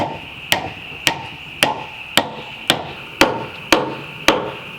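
Hammer blows driving a wooden pin into a timber-frame sawhorse, eight sharp evenly spaced knocks with a ringing metallic edge, close and loud with no voices.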